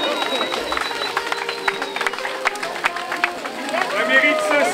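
Audience clapping at an outdoor puppetry festival day in Saint-Cyr-sur-Loire, honouring a puppet company's anniversaries. The applause is dense and steady, with crowd murmur and scattered voices mixed in.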